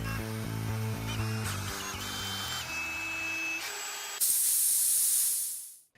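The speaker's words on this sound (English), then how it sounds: "This air gun is what lets air into the legs." An air gun lets out a hard, loud burst of spraying hiss that starts abruptly late in the moment, follows a whirring drill running a winch with shifting pitches, and then fades.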